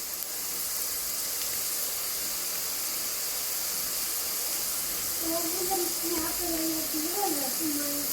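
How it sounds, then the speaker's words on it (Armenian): Onion fries in oil and butter in a pan with a steady, close hiss of sizzling throughout. A faint voice comes in near the end. "Թող մի քիչ սոխը ժարիտ լինի, տապակվի"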